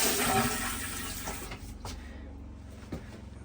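A newly installed Thetford Aqua-Magic RV toilet in a toy hauler flushes with a loud rush of water that fades over a couple of seconds, followed by quieter trickling and a few small knocks, heard up close with no talking.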